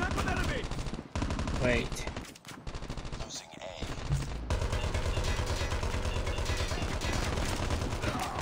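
Sustained light machine gun fire in Call of Duty Mobile multiplayer, dense rapid bursts that briefly break off, then resume as a long unbroken stream, with a short spoken word over the shooting.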